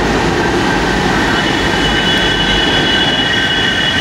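A Nagpur metro train running at Ajni metro station, a loud steady rumble with thin squealing wheel tones throughout, no talk.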